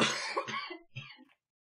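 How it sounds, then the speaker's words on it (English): Several harsh coughs and throat clearings come from a player during a Warcraft III Race War 2018 match commentary, Night Elf versus Human; close, loud bursts that thin out and stop after about a second and a half. "Sorry for all the coughing, guys."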